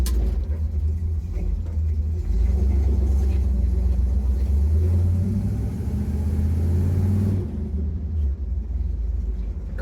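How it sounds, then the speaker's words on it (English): A Chevrolet C10 truck engine running at a low, rough idle after a carburetor swap, with a steady deep rumble close by that drops away near the end. "I got the idle too low. It was idling kind of fast and I turned it down."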